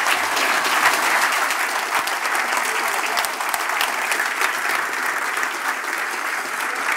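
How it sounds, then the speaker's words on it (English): Conference audience at the EVE Down Under 2013 event applauding steadily, a dense, sustained wash of clapping that holds at full strength for the whole stretch without pause. "I'd like just another round of applause for Chribba."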